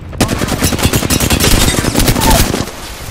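Rapid automatic gunfire from the Apex Legends video game, a loud, close, continuous burst of dense shots lasting about two and a half seconds before cutting off.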